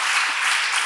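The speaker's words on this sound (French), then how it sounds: "gros applaudissements." Audience applause at a conference presentation, a dense steady patter of clapping that stays loud and even throughout, with no talk over it.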